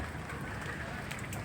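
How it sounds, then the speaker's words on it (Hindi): Steady rain falling during a storm, a faint, even patter and hiss of drops on surfaces lasting the whole short stretch, with no distinct voices standing out. "थोड़ी सी बारिश हुई है और पानी अंदर तक आ गया है।"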